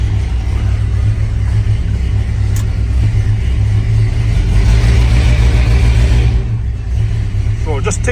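A 1976 Dodge D300 dually truck engine runs loud and close with a low, rough rumble that swells slightly in the middle and then eases, while a person talks over it.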